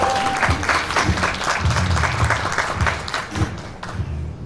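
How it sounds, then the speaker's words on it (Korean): An audience at a talk event applauds to welcome a speaker to the stage, producing a sustained wash of crowd clapping with some thumps, fading slightly toward the end. "여러분 박수로 맞아주세요"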